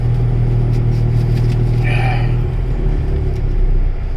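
A diesel truck engine idles during an hour-long exhaust regen, still running slightly above normal idle speed, giving a loud, steady, close-up low rumble with a constant hum throughout.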